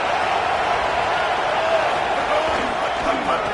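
A football stadium crowd roars at an Indiana Hoosiers game near the goal line, a broad, constant wash of distant cheering that holds at an even level throughout.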